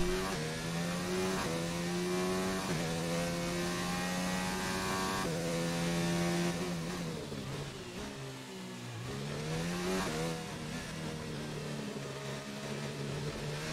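A Formula 1 car engine in the racing game F1 2019, driven on the Spanish circuit in career mode, revs continuously with pitch climbing and dropping through repeated gear changes, loud and steady throughout with no voices.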